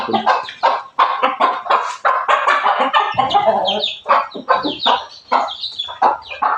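Hens and chicks cluck and chirp in a steady, busy stream of short calls, close by and fairly loud, with no talking.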